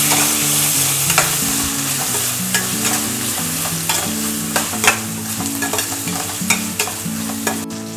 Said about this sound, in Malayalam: നമുക്കിതിലേക്ക് തക്കാളി ഇട്ട് കൊടുക്കാം.